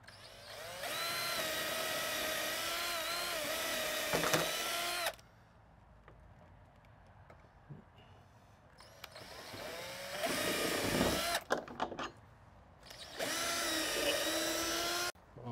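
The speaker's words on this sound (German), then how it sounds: "Also müssen wir das jetzt so in etwa festmachen und entsprechend bohren." Power drill boring holes into a wooden shed door, whirring loudly in three separate bursts of several seconds each, separated by quieter pauses with handling noises.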